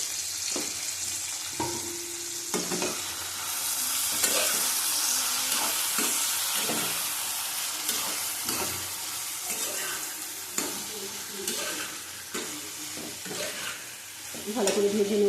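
Chopped tomato and green chilli with salt sizzle steadily in a pan, with repeated scraping stirs and occasional water clatter throughout; no talking.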